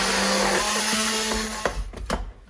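A blender whips bean hummus to a smooth consistency, a steady loud motor drone with a shifting pitch that cuts out near the end, followed by brief clattering bursts as the jar settles.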